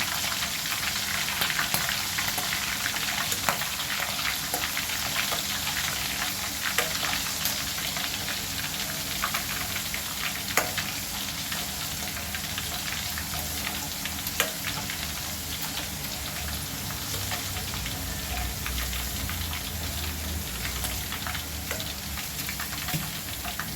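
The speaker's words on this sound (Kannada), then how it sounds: "ನಾನಿಲ್ಲಿ ಒಂದು 10ರಿಂದ 15 ಹಸಿಮೆಣಸಿನ್ಕಾಯಿ ತೊಗೊಂಡಿದ್ದೀನಿ. ಇವು ಎಣ್ಣೆಯಲ್ಲೇ ಫ್ರೈ ಆಗಬೇಕು." Ten to fifteen green chilies fry in oil in a pan, giving a constant rain-like hiss of sizzling with scattered pops and occasional light clicks, steady and close, with no talking.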